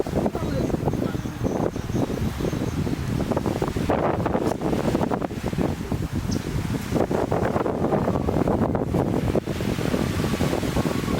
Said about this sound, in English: That's where all of the wind sound come from